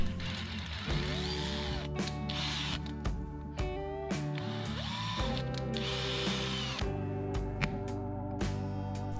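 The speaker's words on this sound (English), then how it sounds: "drill a small hole, use some spirit for drilling" Short bursts of a power drill whining and changing pitch while drilling a small hole in a pinhole camera, starting and stopping repeatedly at close range, with no talking.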